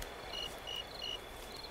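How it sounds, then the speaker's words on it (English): Crickets chirp in the Witch Forest video game, a steady high trilling in short repeated bursts over a quiet forest ambience, fairly faint and with no voices. "Crickets."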